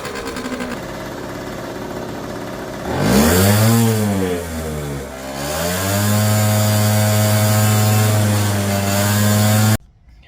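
A small scooter engine being run hard on purpose to make it seize buzzes up and down a car park, its high whine swooping and rising with revs, then settling into a loud steady drone before cutting off abruptly.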